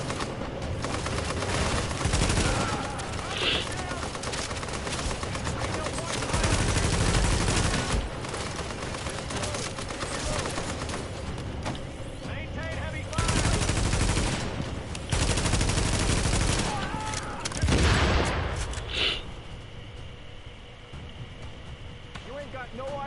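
Gunfire in The Division video game: dense, loud bursts of automatic and single shots go on almost without a break, with someone talking over the shooting.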